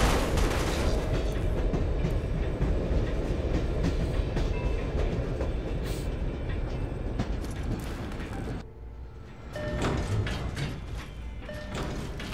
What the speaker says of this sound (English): First train ride in the Fallout universe.